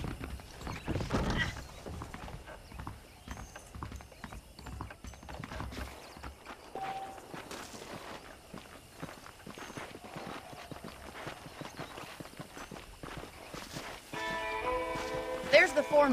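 A horse being ridden in Red Dead Redemption, with steady clip-clopping hooves under continuous talk and a brief whinny, while mechanical clinks and a musical flourish rise near the end.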